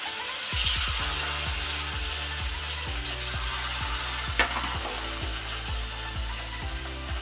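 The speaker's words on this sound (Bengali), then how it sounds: "তো ভাজা হোক এটা" Chhana kofta balls fry in hot oil in a home kitchen, giving a steady close sizzle and crackle with regular soft bubbling pops, no voices.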